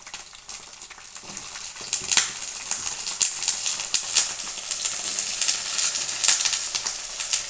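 Sliced brinjal fries in oil in a pan without tomatoes, giving a steady bright sizzle with crackling pops that grows louder partway through and carries on alone.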